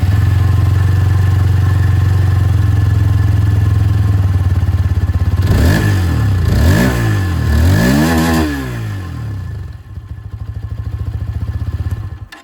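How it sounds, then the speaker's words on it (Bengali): A Hero Xtreme 160R motorcycle idles loudly up close, then its exhaust rises and falls through three sharp throttle revs before settling back to a lumpy, uneven idle, with no voices. "চলুন তবে যে এক্সস্ট সাউন্ড সেটাও আপনাদের শুনিয়ে দিই।"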